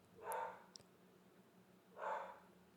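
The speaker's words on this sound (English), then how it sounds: "The dog's barking again." Two faint distant dog barks about a second and a half apart, muffled as if from another room, over a quiet background.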